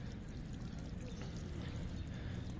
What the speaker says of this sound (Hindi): अब इसको दोबारा से पानी दे देते हैं